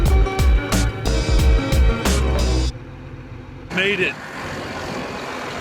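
A tractor towing a folded disc in transport mode rumbles loud and near at a steady low pitch, then its noise drops abruptly. A voice speaks briefly near the end.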